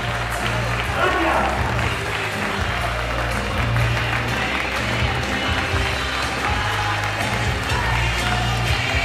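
An audience at a stage show applauds and cheers, with dense, continuous clapping at a loud, steady level and a low hum running underneath throughout.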